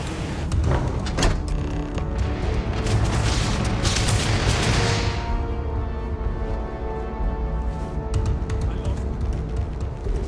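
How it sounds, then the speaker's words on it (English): Ship weapons fire in the Starfield video game as dense, booming bursts over a constant low rumble, with a loud crackling stretch early that gives way to steadier droning tones. "I am opening fire."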